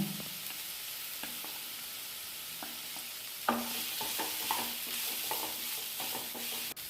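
Onion frying in hot oil for a colocasia fry dish, a soft steady sizzle with scattered spoon clicks and scrapes, a louder stir midway, no voices.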